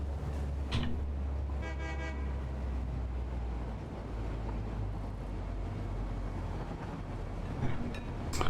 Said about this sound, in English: I just heard a train horn.